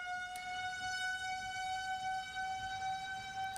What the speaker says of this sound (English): Tornado sirens are going off here.